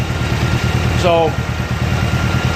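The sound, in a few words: 1986 Honda Goldwing GL1200 motorcycle engine idling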